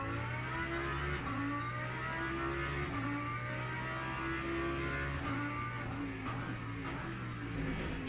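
Engine of a Lamborghini GT3 race car in the Le Mans Ultimate racing game, driven around Qatar, holds a steady loud drone with upshifts and small pitch drops across the run, with no talk.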